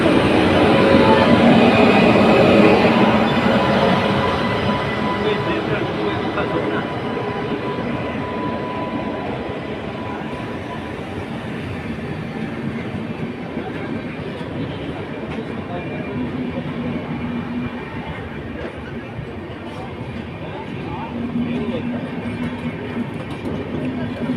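A train rumbles past at close range through the open Malviya level crossing, loud at first and then settling into a steady rolling roar, with voices talking faintly underneath.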